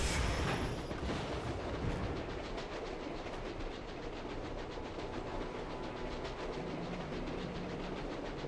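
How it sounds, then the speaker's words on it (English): A train in the Captain America: Super Soldier video game rolls past, loud and close, with a dense rumbling roar and a steady rapid clickety-clack of wheels on track, no voices over it. "Ooh, that train does not look very good."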